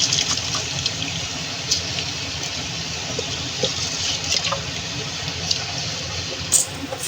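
Water pours into a pot of mushroom biryani, a continuous trickling splash that runs steadily with a few small clinks and bumps along the way, close and clear with no speech.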